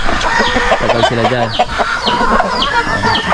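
Chickens clucking and crowing on a Philippine backyard farm, a busy flock calling close by in repeated short bursts, with someone speaking over them.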